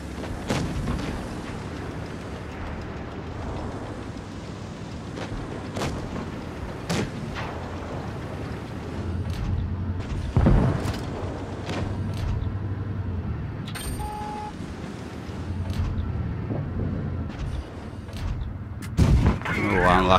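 Tank cannon shots in World of Tanks Blitz, several sharp booms spaced every few seconds over a low engine rumble and mechanical game noise, with a voice talking in places.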